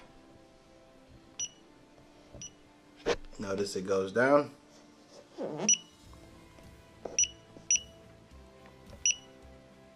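Short electronic beeps from a DSC Neo alarm panel buzzer sound one at a time at irregular intervals, a few close together, with someone talking briefly in the middle.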